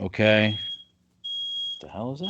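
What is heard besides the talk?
fire alarm beeping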